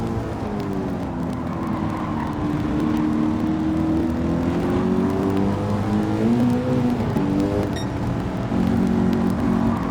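A race car in the American Clubman Cup at Laguna Seca accelerates hard out of a corner, its engine droning loud and steady from inside the car with rising and shifting pitch, alone with no talk.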